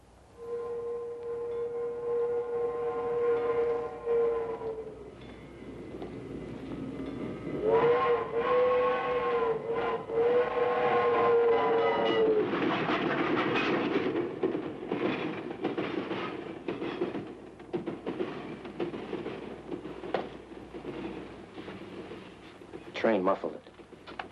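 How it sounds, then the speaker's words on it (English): A steam train passes in a black-and-white crime film, its long whistle sounding twice over a rumbling, rattling roll of wheels and cars that swells and continues loudly for the whole stretch. "Train muffled it."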